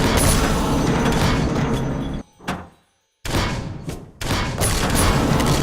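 Shooting in the marble-shooter game Luxor 4: dense, loud bursts of rapid firing and thudding impacts, broken by a short dip and a second of silence before the barrage resumes.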